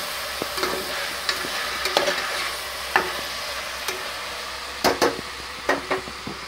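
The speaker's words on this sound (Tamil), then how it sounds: "நல்லா இப்போ பார்த்தீங்கன்னா நல்லா கிளறிக்கிட்டு இருக்கோம்" Mutton biryani masala sizzles and fries in a pan while a spoon scrapes and stirs through it, with several sharp clacks against the pan over a steady hiss; no one speaks.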